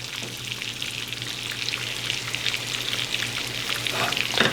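A sunny side up egg frying in a pan with the lid just lifted, a steady close sizzle and crackle running throughout with no talk, moisture evaporating off over fairly high heat.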